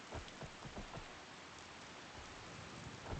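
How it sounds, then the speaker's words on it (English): Steady rain falls in a video game world, a soft even hiss of drops with a few faint low thuds, quiet and continuous with no voices. "And the rain still falls."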